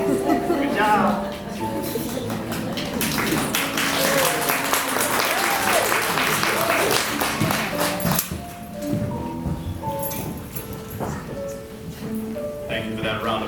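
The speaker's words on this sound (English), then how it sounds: "Thank you for that round of applause." A theatre audience at a community stage production of a musical claps in sustained applause for most of the stretch, fading unevenly with voices talking over and after it.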